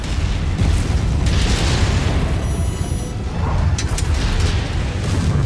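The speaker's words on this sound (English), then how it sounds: "My last kill is about to explode." A mech explodes in MechWarrior 5, a loud, sustained rumbling boom with crackling debris that lasts several seconds, plus a brief high electronic tone in the middle. No one talks.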